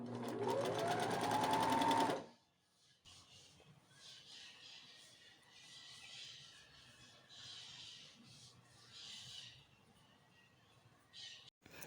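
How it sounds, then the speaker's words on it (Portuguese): A domestic sewing machine running a straight stitch on fabric for about two seconds, a fast steady mechanical whir, loud and close, then stopping abruptly and leaving quiet handling noise. "passei a costura reta em volta, tudo"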